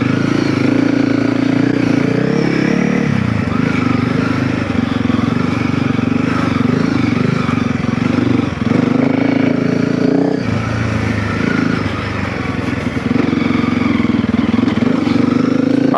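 A loud, close Honda CRF300L with a Stage 1.5 modification chugs at low speed in second gear. The steady, deep engine drone runs throughout with slight dips in revs.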